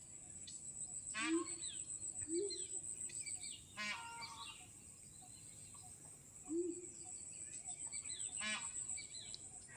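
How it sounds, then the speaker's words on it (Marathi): Forest insects and crickets keep up a steady high-pitched drone while birds call repeatedly with sharp trills and chirps, some near and some farther off, beside a quarry and a fishing spot. "बघा प्राणी पशु पक्ष्यांचा किती आवाज येते"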